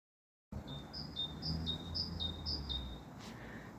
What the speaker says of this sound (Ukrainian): Чуєте, як пташка співає?